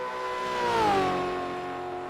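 Gen 3 Supercars race car engine in the iRacing video game, a steady harmonic drone that swells and bends in pitch near the middle as revs shift, heard alone without talk.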